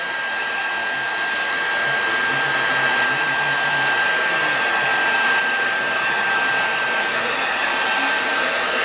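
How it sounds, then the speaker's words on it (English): A heat gun blows steadily at close range to dry an altered magnifying glass craft project, giving a constant loud whooshing roar with no breaks. "get my heat gun going"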